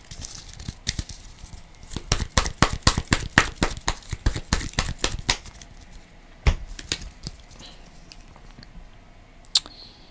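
Playing cards being shuffled during a Marvel Champions card game, a rapid run of sharp riffling snaps and flutters, loud and close, followed by a few scattered taps and card sounds.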